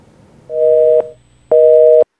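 Telephone tone for a number not in service: two loud, steady electronic beeps, each about half a second long, separated by a short gap, with no voices.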